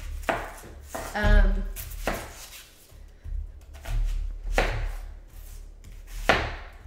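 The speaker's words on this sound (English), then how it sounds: "I'm gonna chop up this little onion" An onion being chopped on a cutting board for kimchi paste, loud thunking knife strokes in a loose uneven rhythm. A brief spoken reply is heard between the chops.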